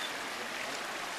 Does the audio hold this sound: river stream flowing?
yes